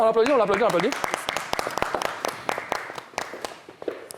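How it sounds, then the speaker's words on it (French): An audience applauds on a radio entertainment show, a burst of clapping that starts under a voice and continues alone as scattered, irregular claps that thin out toward the end. "On l'applaudit."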